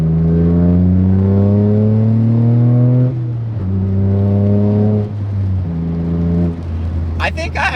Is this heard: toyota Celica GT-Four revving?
yes